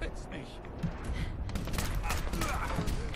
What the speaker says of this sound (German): da schießen sie von allen Seiten mit ihren Pistolen auf mich